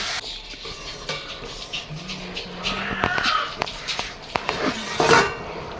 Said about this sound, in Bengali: জল দেওয়ার পরে আবারও নাড়িয়ে নিচ্ছে।